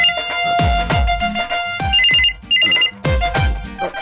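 A telephone rings indoors with a loud, close electronic ringtone: repeating melodic tone bursts separated by short gaps, with nothing else heard.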